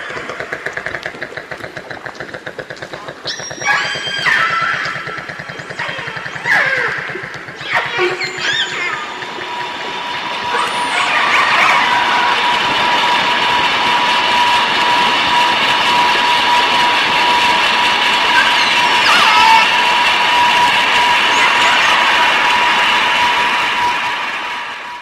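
Underwater recording with a marine animal's calls, tonal whistles and sweeping cries, for the first several seconds, then a boat's engine takes over as a loud steady drone and hum that persists to the end.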